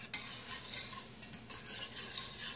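A whisk stirring a roux in a pan for an asparagus gratin, faint, continuous scraping and light metallic ticks over a low sizzle, quiet and close, with no voices.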